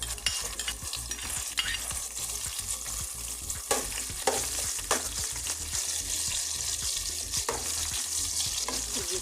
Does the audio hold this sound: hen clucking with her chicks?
no